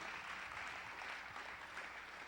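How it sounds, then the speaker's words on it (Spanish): A church congregation claps for the Lord during an apostle's sermon, a faint, steady wash of hand claps that holds evenly throughout without a break. "Dele palmas al Señor de la gloria."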